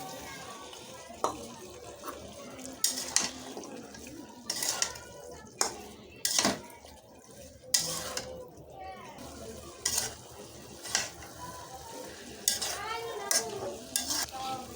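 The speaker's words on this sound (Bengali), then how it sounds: "গাজরটা দিয়ে দিয়েছি। দিয়ে দিচ্ছি ফুলকপি।" Carrot and cauliflower stirred in a frying pan, with a low sizzle under frequent sharp clinks and scrapes of a metal spatula against the pan, close by, while someone talks intermittently.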